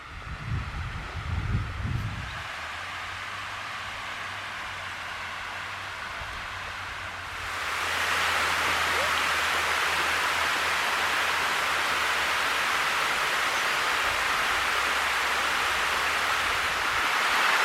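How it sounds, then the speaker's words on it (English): Water pouring over a dam at Turkey Creek Lake in Shawnee State Park, a steady broad rush heard at first from a distance over brief handling noise, then suddenly louder and closer, holding constant to the end. "the sound of the water is very soothing, very peaceful"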